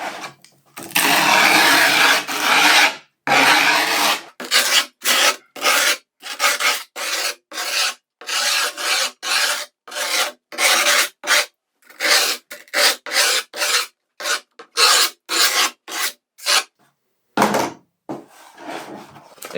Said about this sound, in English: take an edge of it and start scraping the edges of where your board and the grip tape meet